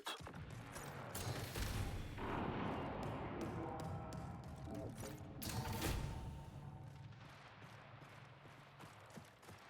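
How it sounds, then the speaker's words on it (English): Scattered distant gunfire crackles through the Marathon game soundscape, a few sharp bursts standing out around the middle against a steady bed of ambient noise and movement. "Gunfire this direction vaguely."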